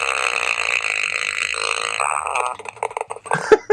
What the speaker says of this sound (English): listening to a man in his early 40s farting while he's putting